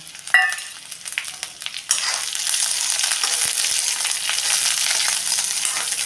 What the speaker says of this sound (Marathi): मिरची पण आपण आता ही एक एकसारखी परतून घेऊया